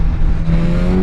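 A Suzuki GSX-S1000 motorcycle engine roars loud and steady at full throttle, a close, continuous buzzing drone with no pauses.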